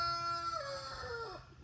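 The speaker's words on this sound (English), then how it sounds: "You get the rooster crows" A rooster crows once on a farm with rescued fawns, a single drawn-out call at moderate distance, slightly faint over a low outdoor hum.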